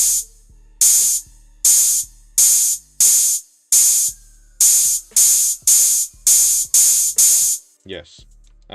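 A synthesized trap hi-hat processed with distortion and reverb plays about a dozen loud, bright, hissing hits at an even pace, each with a short tail, followed by a brief different sound at the end.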